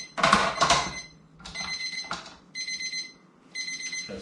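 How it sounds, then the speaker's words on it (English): A kitchen timer alarm goes off while bread dough is being kneaded, with several bursts of shrill, rapid beeping separated by short pauses, loud and close. "That's my timer."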